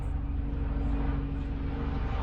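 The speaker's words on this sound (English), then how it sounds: "There's a plane passing by right now." An airplane passes overhead near an airport, heard as a steady, loud low-frequency engine rumble that fills the whole stretch without clear rise or fall.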